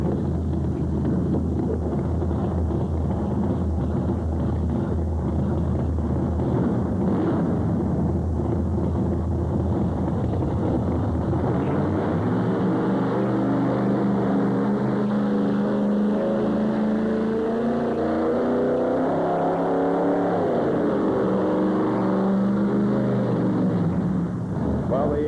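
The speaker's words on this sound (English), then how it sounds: "Engine not coming up in RPM for him, so apparently something a little bit wrong with the brandy machine here tonight." A pulling tractor engine roars steadily at a 1987 tractor pull, loud and continuous with wind buffeting the microphone, its pitch rising and falling as the engine struggles to come up in RPM.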